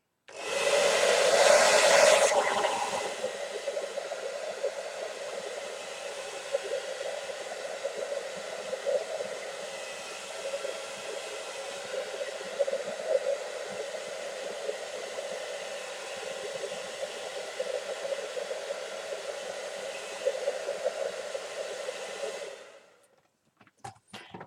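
A hair dryer blows on a freshly painted gold ball, a steady whooshing hum with a strong tonal whine that runs for over twenty seconds, starting with a brief louder burst and cutting off sharply near the end.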